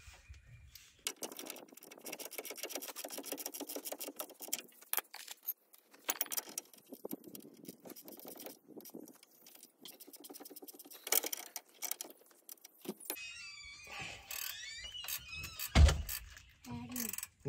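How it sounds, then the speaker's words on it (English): Metallic ratcheting and wrench clicks as control arm bolts are tightened during a 6-inch lift kit install on a 2022 Ram truck, with irregular bursts of faint, close mechanical clatter and a voice near the end. "Let's go ahead and tighten up the control arm."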